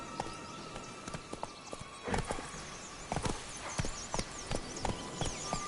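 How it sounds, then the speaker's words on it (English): Hooves of a horse clip-clopping in the video game The Witcher 3, a series of sharp irregular hoof strikes at moderate distance over faint ambient game sound, growing busier after two seconds. "Whoa there, Roach"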